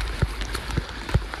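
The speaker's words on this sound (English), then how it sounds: "Because of the rain, everything is like flooding." Heavy rain on Mount Roraima during a hike, a dense hiss of rainfall with a few heavy thumps like footsteps through wet ground, close and steady, with no talking.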